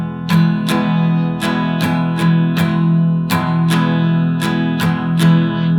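An acoustic guitar strums a steady chord pattern alone, sharp bright strokes falling in an even rhythm with lighter ghost strums between them, close and clear.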